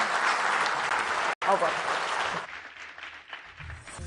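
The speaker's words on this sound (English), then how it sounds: "Please give a hand of applause." Audience applause at a live Reuters NEXT conference session, a steady wash of clapping under a host's voice that breaks off briefly, then thins out and fades as talking continues.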